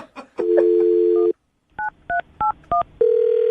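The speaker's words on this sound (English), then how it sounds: "I'm going to dial the phone number right now" Telephone keypad DTMF tones as a phone number is dialed: a long steady tone, a pause, then four short evenly spaced beeps and another sustained tone, loud and clean with no talk.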